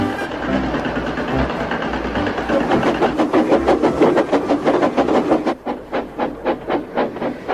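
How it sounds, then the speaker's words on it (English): Steam engine train puffing along past fields, a loud rhythmic chuff building into regular, evenly spaced puffs that continue steadily to the end. "a tractor was hard at work as Thomas puffed along"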